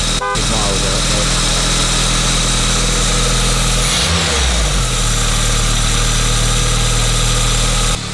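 A 1986 Volkswagen Scirocco Mark II engine idles with a loud, steady hum, and its pitch shifts briefly midway as the revs settle, while a person talks nearby.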